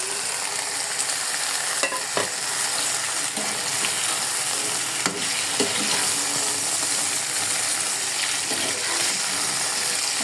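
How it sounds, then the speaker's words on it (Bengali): Marinated chicken hitting lightly fried onions in a hot pan for chicken korma, a loud, steady sizzle with occasional stirring clatter throughout. "এখন ম্যারিনেট করা মাংসগুলো দিয়ে দেবো।"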